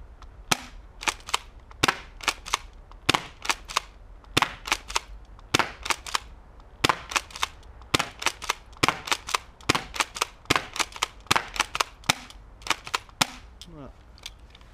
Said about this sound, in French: Il m'a bien fait des tirs de 3 billes.